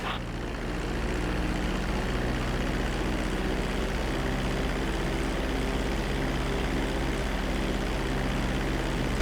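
A steady, loud roar of an airplane engine on approach to land on a runway in the video game GTA V, droning without pause and with no voices.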